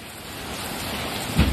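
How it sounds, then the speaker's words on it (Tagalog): Rain falls steadily on a rainy midday, a dense even hiss that holds for under two seconds and thickens slightly at the end, with nobody speaking. "Maulan po, maulan."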